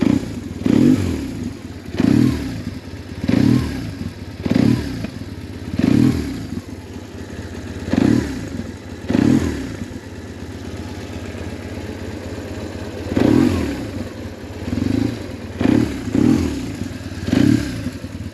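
A 2005 BMW R1100S boxer motorcycle engine with an underseat exhaust rumbles at idle and is revved in a series of short throttle blips, each rising and falling, close and fairly loud.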